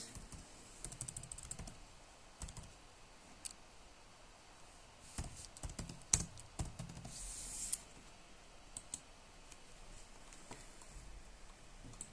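Typing on a computer keyboard, quiet scattered key taps in short irregular bursts over a faint room hiss, with a couple of slightly louder clicks, no talk.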